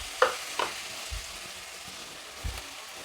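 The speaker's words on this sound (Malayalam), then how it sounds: "വെളിച്ചെണ്ണ നന്നായി ചൂടായിട്ട് ഇനി ഇതിലേക്ക് സവാള കേട്ടോ" Chopped onion frying in hot coconut oil for a Kerala green peas curry, a quiet sizzle broken by a few sharp pops and crackles, close to the pan.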